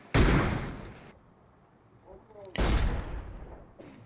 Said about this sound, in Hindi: तुम्हारे भाई के पास यहाँ पे गोलियाँ ज़्यादा हो गई थी तो गोली का फायर कर रहा था थोड़ा